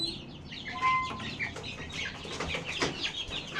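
Young chicks in a brooding room chirp in a busy, overlapping chorus of thin high peeps, close and continuous, with no one speaking.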